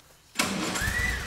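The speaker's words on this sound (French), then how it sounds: "démarreur" Starter motor cranking the engine of a 1936 Riley 12/4 TT Sprite Special open tourer, a loud sudden burst of churning mechanical noise that holds steady and close.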